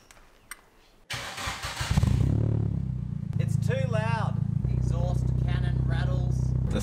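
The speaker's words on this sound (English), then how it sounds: "The throwout bearing shot." A Nissan Silvia with a worn clutch throwout bearing: the engine starts up and settles into a steady, rough idle with a whirring rattle, heard close, while someone talks over it.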